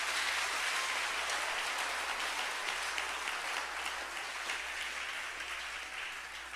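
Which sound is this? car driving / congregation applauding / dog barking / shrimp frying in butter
congregation applauding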